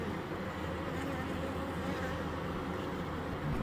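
Honey bees swarm around a queen cage, making a faint, steady, continuous buzz with no break.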